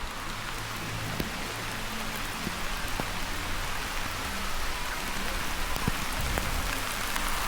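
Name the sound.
rain falling on campsite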